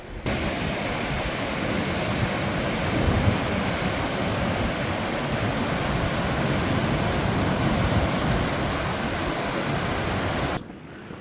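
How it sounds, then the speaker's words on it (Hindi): The Spiti River rushes past in a continuous, loud broadband roar of flowing water, steady throughout without pause before cutting off near the end. "ये खाली स्पीति रिवर का आवाज़"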